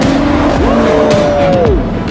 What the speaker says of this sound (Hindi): जरा इंजन की आवाज तो सुनो। ये क्रेजी है।